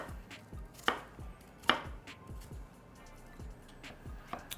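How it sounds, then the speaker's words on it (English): Knife chopping an apple into small bits on a cutting board, a steady series of close, crisp thuds with a couple of louder strikes, fairly quiet overall with no talking. "I'm gonna cut the apple up into those little bits"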